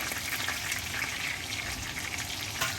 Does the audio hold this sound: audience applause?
no